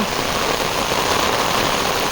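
Loud, steady rush of rain in Mymensingh, a dense hiss filling the whole clip without pause.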